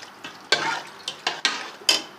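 Salt and garam masala are stirred into beef pulao in a pot, a handful of loud, close scraping strokes over a low sizzle, with no voices.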